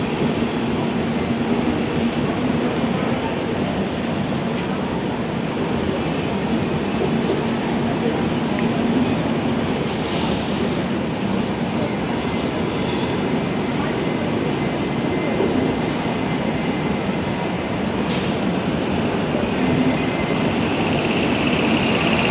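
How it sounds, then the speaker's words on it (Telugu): A goods train passes close by with a continuous loud rumble and steady clatter of wagons, and several brighter metallic clanks rise above the roar over the full stretch. "ఇటువైపు నుండి మనకి ఒక గూడ్స్ ట్రైన్ అనేది వెళ్తుంది"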